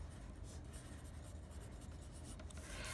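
A pen or pencil writing a name on paper, a quiet continuous scratchy rubbing close by, heard on its own without talk.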